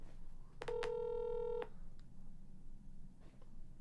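A phone keypad dials a city hall number in Knoxville: a few quick tone beeps followed by one steady held dual tone lasting about a second, then quiet line hiss.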